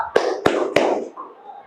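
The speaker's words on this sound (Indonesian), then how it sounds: "Jadi tepuk tangan sesuai angka yang Bapak sebut." A classroom group claps hands three times in sharp, evenly spaced bursts, followed by a short murmur of voices as the clapping fades.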